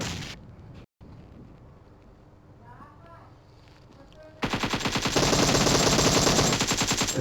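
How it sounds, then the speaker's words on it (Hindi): Gunfire in a battle royale video game: after quieter game sounds, a sudden loud burst of rapid automatic shots starts partway through and continues in a dense, repeating stream to the end. "मैंने ग्रेनेड मार दिया है उनके ऊपर।"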